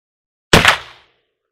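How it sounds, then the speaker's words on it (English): A single sharp bang as a black powder cartridge fires from a .50 Sharps rifle at a steel target, loud and close, with a short decaying tail and silence before and after. "I'll throw one into the steel so we can hear it go bang"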